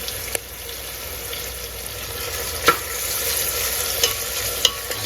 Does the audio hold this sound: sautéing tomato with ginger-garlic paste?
yes